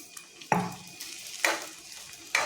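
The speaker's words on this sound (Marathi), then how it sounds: "आणि हे आपल्याला मंद गॅसवर परतायचं आहे" Sabudana khichdi being sautéed in a pan over a low flame, with three sharp scrapes of a spatula against the pan spaced about a second apart and a soft sizzle underneath. Nobody speaks.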